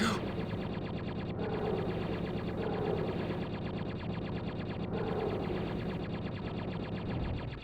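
Rapid repeated blaster fire at an alien in the SNES game Super Star Wars, a steady stream of clipped electronic shots rattling in fast rhythm over busy game music, fairly quiet overall.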